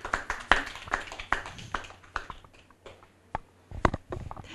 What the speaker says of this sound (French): On applaudit Axel.